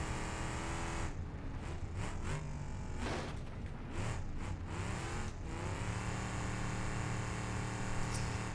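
A trophy truck in BeamNG.Drive roars steadily at high revs, the engine note dipping and surging as it lands a jump, loud and continuous with no talking.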